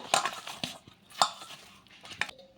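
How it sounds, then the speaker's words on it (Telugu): Radish puri dough being mixed with oil in a metal bowl produces intermittent clinks and soft scrapes of a spoon or hand against the bowl, a handful of distinct knocks spaced irregularly, close and fairly quiet. "ఇందులోకి కొంచెం నూనె కూడా వేసుకొని నూనె కూడా వేసుకొని మళ్ళీ ఒకసారి కలిపేసుకుందాము"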